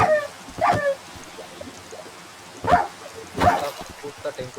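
Dogs bark in a horror Minecraft game: three or four distinct barks spaced across the clip, fairly close and loud, with quieter game ambience between them.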